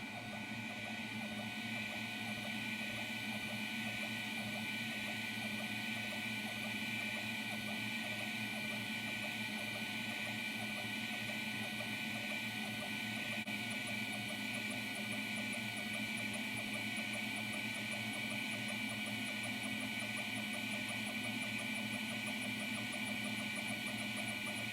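Laser marking machine engraving an iPad mini, giving a steady, faint mechanical hum with constant tonal whine and fan-like hiss, unchanging throughout with no talk.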